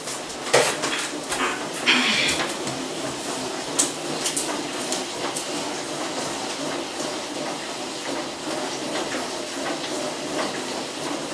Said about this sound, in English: that's my washer. Hold on, because I'm gonna have to turn it off.